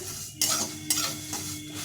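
Mustard seeds, spices and chillies for a raw mango pickle fry lightly together in oil under a soft sizzle, with three quick scraping stirs close by.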